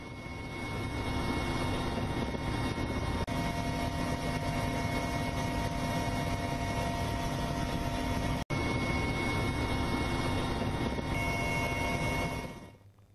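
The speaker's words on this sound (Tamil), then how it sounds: "புயல் மற்றும் வெள்ளத்தால் ஏற்பட்ட பாதிப்புகளை ஹெலிகாப்டர் மூலம் சென்று ராஜ்நாத் சிங்் பார்வையிட்டார்." Helicopter flying over a storm- and flood-hit area during an official aerial inspection, its rotor and engine roar loud and steady throughout with no talking, then fading at the very end.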